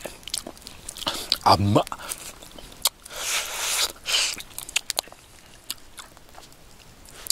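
Chewing on a hot baked Anno sweet potato at a solo campsite: soft, moist mouth sounds and a few bites come in two short bursts, with a brief spoken word between them.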